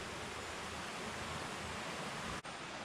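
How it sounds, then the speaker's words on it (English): Water from a creek in Rolling Hill Park, Gladwyne, Pennsylvania, rushes steadily as a dense, unbroken wash of noise, close and fairly loud, running alone without any voices. "So now let's check out this creek"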